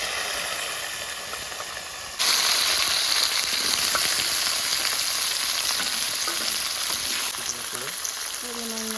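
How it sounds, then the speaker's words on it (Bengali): Flat beans and potatoes hit hot oil with five-spice and dried red chilli for a Bengali mustard chorchori, bursting into a loud, steady, close sizzle after a quieter first two seconds. "এখন পাঁচফোড়নটা দিয়ে দিব। সিম আর আলুটা দিয়ে দিব।"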